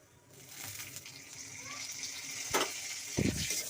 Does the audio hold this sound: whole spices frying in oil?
yes